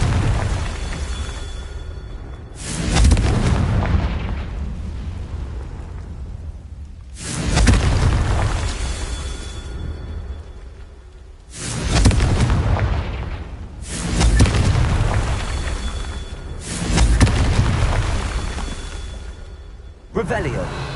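Confringo fire spell explosions in the Hogwarts Legacy video game, with five heavy booming blasts spaced a few seconds apart, each swelling loudly and then rumbling away before the next.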